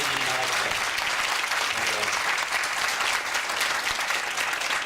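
Audience at a Hindu temple in the UK applauds a revered guru, a dense, steady wash of clapping filling the whole stretch at even loudness, with faint voices underneath.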